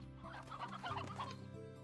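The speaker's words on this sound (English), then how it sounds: "We only found hens and chickadoos." Hens cluck in the game Slime Rancher, a short, busy run of overlapping fowl clucks and chatter that stays steady and moderately close throughout, with no talking.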